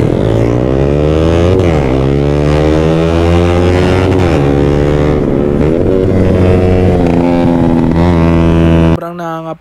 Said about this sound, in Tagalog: So mag-warm up lap muna kami dito guys.